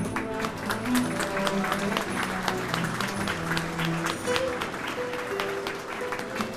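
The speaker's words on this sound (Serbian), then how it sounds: "Pozdravimo ih aplauzom." Applause from a crowd welcoming arriving cast members at a gala film premiere in Sava Centar, a steady wash of clapping that carries through the whole stretch with music and murmur underneath.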